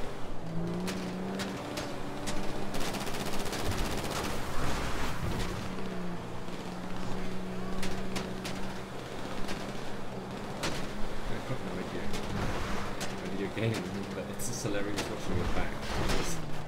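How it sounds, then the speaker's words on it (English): Gunfire in GTA V, with rounds striking nearby and scattered sharp cracks over a steady engine drone, while people talk over it throughout. "Getting peppered with bullets"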